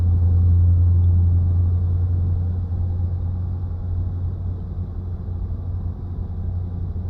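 Heavy European-style truck in Euro Truck Simulator 2, its engine a steady low diesel drone and rumble cruising along, loud and continuous, easing slightly in level after the first seconds with no talk over it.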